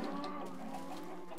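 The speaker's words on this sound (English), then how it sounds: "That chicken made me kill a baby." Chicken clucking in the video game Nebulous, a steady, dense stream of fowl sounds held at an even level for the whole short stretch, with no talk over it.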